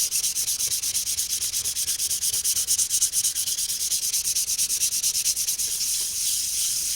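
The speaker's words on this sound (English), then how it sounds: "just take some 220 grit. Just very quickly give it a once over" Sandpaper of 220 grit rubs over a natural whetstone in quick rhythmic back-and-forth strokes, a bright scratchy rasp repeating evenly and close throughout, with no talking.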